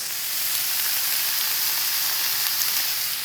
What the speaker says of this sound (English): the sound of the pan can tell you a lot about how hot it is